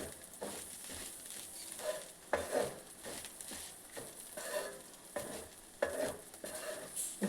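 Okra (bhindi) fry is stirred in a pan, giving a soft continuous sizzle broken by repeated scraping strokes of the spoon, close and fairly quiet, with no voices.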